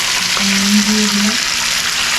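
Vegetables and potatoes stirred as they fry in oil for a Bengali Katla fish curry, a steady close sizzle throughout with a brief scraping stir in the first second.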